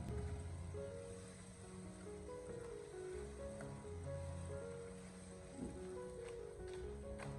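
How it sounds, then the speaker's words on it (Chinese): Luffa and green chili stir-fried in a wok over high heat give a steady, close sizzle and hiss throughout, with faint scraping of the spatula against the pan and no talking. "然后再继续的开大火将它翻炒一下，把它翻炒均匀，将青辣椒给它翻炒至成熟"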